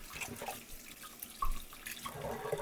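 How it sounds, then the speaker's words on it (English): Water runs from a tap into a bowl of soaking dal, a steady quiet stream with small splashes, heard alone at low volume. "Put a bit more water in there."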